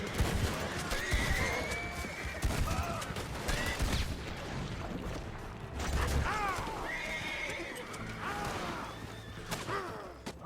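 Horses whinny repeatedly amid busy galloping hoofbeats, with scattered gunfire-like bangs in a noisy, chaotic scene, from a Mahogany Bay Tennessee Walker horse in the video game Red Dead Redemption.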